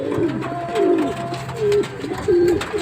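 A pet pigeon recovering from a limp coos several times in low, rolling bursts, close and clear, with short pauses between calls.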